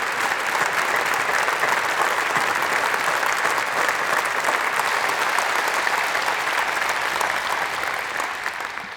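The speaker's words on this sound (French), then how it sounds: "À qui nous pouvons rendre hommage par des applaudissements nourris pour sa belle carrière" Sustained, heavy applause from an audience at a French political gathering honours someone's long career, an even wash of many hands clapping that holds for about nine seconds before tapering slightly at the end.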